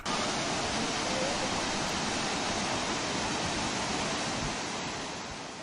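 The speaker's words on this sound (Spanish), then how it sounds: "esta bellísima catarata que cae al mar" A waterfall plunges into the sea along a rocky coast, producing a dense, continuous roar of rushing water, loud and unbroken, fading slightly at the end.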